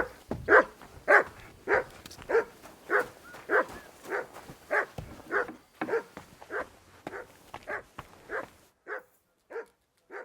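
A dog in Kingdom Come Deliverance 2 barks again and again in a steady rhythm, about fifteen sharp woofs at moderate distance. The barks fade slightly toward the end, with no talk over them.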